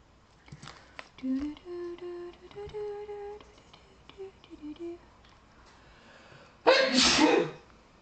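Faint scattered sounds and a soft hummed tone lead into one loud, close sneeze near the end.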